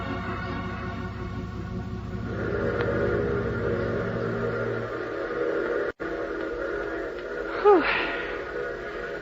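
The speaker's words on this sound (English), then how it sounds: "at least the train seems to be on time" A low rumble with sustained tonal layers suggests a train and its whistle. The noise fades, then a short chirping sound rises near the end.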